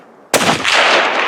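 A single loud, close rifle shot fired during a whitetail deer hunt in Alberta, a sharp crack followed by a long rolling echo and no talk.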